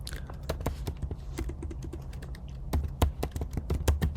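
Someone types on a computer keyboard while setting up WiFi network entries, producing irregular bursts of close, crisp key clicks with short pauses between them, quiet and without talk.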